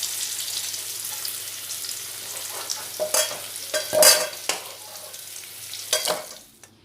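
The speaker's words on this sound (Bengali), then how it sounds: "এবার আলুগুলো লাল লাল করে ভেজে নেব।" Potatoes fry in a pan until reddish, a close sizzle broken by scraping stirs and a few louder clattering bursts before it fades out, with no voices.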